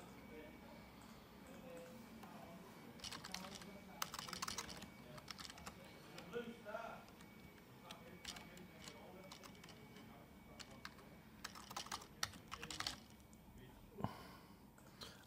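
Someone typing an email address on a computer keyboard, with quiet clusters of key taps in short bursts under a person speaking, all faint and close.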